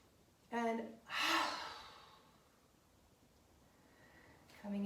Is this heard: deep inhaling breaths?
yes